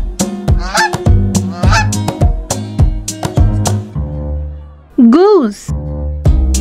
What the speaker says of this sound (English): The sound of goose is...